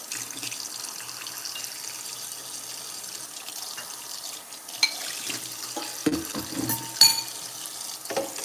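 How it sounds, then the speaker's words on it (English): Tap water runs steadily into a kitchen sink while dishes are rinsed before breakfast cooking, a continuous hiss with a few louder splashes and clinks toward the end. "I'm just rinsing everything out first and then gonna start."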